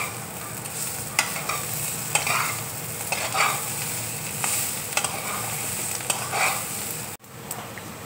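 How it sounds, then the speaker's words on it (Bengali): Beetroot, carrot and potato frying in a pan with green chillies and poppy seeds, a steady close sizzle broken by repeated scraping stirs of a spatula. "বিট গাজরটা দেখো ভাজা হয়ে গেছে"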